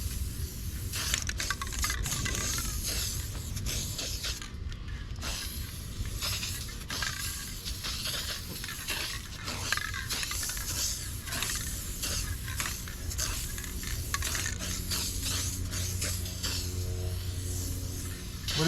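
A spray gun mists light coats of metallic flake paint onto a car in a steady, soft hiss that continues for the full length. Faint mechanical clatter sits underneath, and no one speaks.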